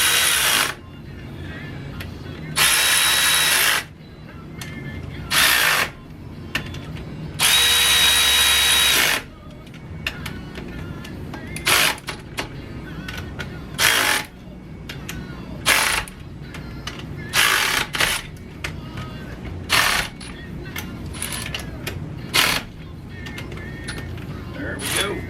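Power tools and a ratchet work on Corvair parts being bolted down in a shop: repeated loud whirring bursts of a few seconds each alternate with rapid ratcheting clicks and clanks, close by, with some talk mixed in.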